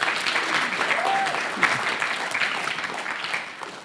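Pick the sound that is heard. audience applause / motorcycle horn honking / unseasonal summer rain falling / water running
audience applause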